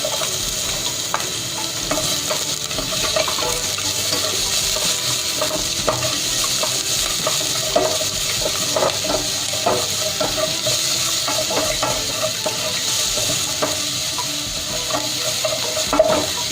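Garlic sizzles steadily in a hot pan alongside onion for a Korean spicy soft tofu stew, with frequent stirring scrapes and clinks over a continuous frying hiss.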